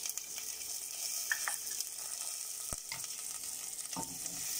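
Onion, cumin and red chilli fry in hot oil, a soft continuous sizzle with a few faint clicks of stirring, quiet and close with no talk.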